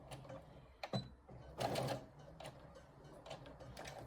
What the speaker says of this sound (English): I will be back stitching up to the Velcro